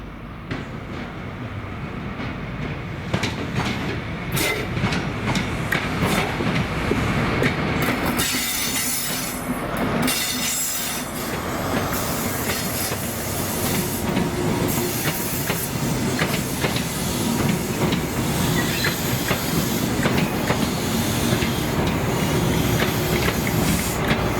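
A ScotRail train headed by power cars 43177 and 43127, running from Glasgow Queen Street to Aberdeen, passes at Perth with a continuous rumble, wheel squeal and rhythmic clickety-clack over the rail joints, loud and close throughout.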